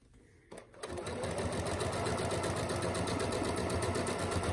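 A sewing machine backstitches the seam of a cotton face mask with a 1/4 inch seam allowance, starting after a couple of clicks and then running loud, close and continuous.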